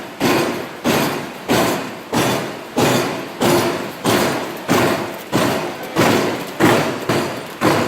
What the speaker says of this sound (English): solid brass here. Punched out into cups. These brass strips come out here and get cut.